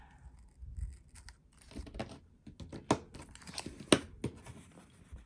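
Scissors snip the edge off a sheet of paper for an art journal, a handful of sharp crisp cuts and crinkles close by, spaced irregularly with quiet gaps between.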